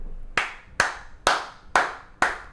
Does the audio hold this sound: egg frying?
no